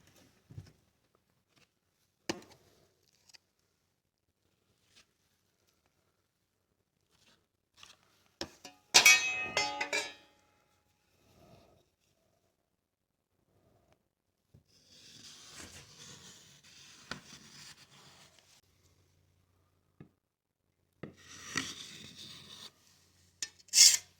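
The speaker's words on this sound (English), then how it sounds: "I'll just cover the gaps and scrape the excess off and let it dry hard" A drywall knife scrapes excess joint compound off a wall in short, separate rasping strokes with quiet gaps between them. One strong scrape lands near the middle and a final loud one at the end, and there is no talking.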